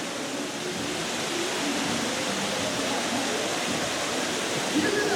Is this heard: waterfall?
yes